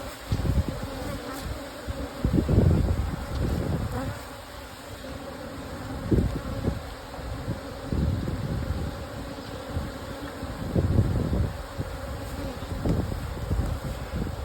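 Honey bees drone steadily around an opened hive during an inspection, with a dense close buzz that swells and fades in several louder bursts as the frames are handled.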